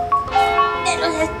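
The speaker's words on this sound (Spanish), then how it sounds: "el padre Miguel Hidalgo llegó a su iglesia, tocó la campana, trum, trum, trum, trum" Church bell rung in a children's story about calling people to fight for independence, its sustained metallic tones overlapping with speech and heard close and fairly loud.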